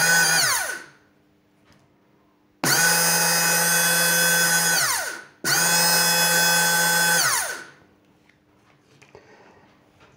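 Cordless drill motor running on a battery pack converted from Ni-Cd to lithium-ion, three loud close bursts of high whine that spin up and wind down, with quiet gaps between them.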